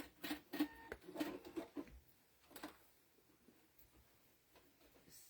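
A sewing machine stitches fabric for a couch pincushion in a few short, quiet bursts of rapid needle ticking, close by, then trails off into faint handling noise.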